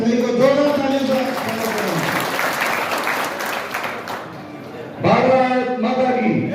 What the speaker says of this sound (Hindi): आदरणीय मंगेश जी संघवी को जोरदार तालियों से